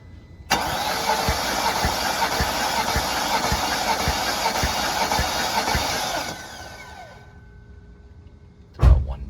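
A 2000 BMW 540i V8 cranks steadily for about six seconds with a rhythmic pulsing beat during a cylinder compression test, then winds down, followed by a short thump near the end.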